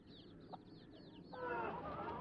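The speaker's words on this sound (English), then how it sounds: "hatching fertile eggs under a desi brooding hen" A desi brooding hen with Gramapriya chicks: a run of five or six quick, high chick peeps, then the hen's low, throaty clucking grows louder and continues, all fairly close and quiet.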